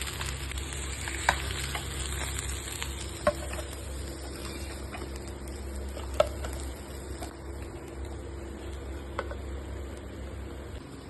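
Fish finishes frying in hot oil with a soft, continuous sizzle and a few faint pops and crackles, close by but quiet. No one speaks.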